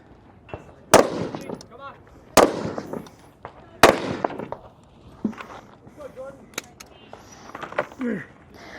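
Three sharp, loud rifle shots ring out at a shooting competition stage, spaced roughly a second and a half apart, followed by quieter clatter and movement, with people talking faintly in between.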